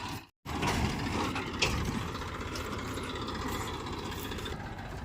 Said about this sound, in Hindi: तो भाई देखो ट्रैक्टर आ गया खेत में